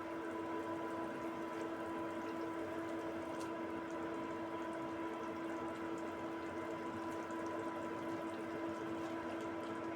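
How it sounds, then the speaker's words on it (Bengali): A pan of spicy pabda fish curry sauce boils steadily as the fish are added, giving an even, continuous bubbling hiss over a faint tonal hum, close and without voices. "ঝোল ফুটে উঠেছে, 2টো চেরা কাঁচা লঙ্কা দিয়ে দেব। এবার মাছগুলো দিয়ে দেব।"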